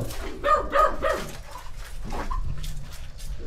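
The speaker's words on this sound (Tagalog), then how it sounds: "Galit na yung aso." A dog barks several times in quick succession nearby at an abandoned, flooded house in Bulacan, followed by quieter yips and whimpers.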